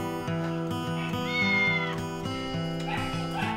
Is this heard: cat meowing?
yes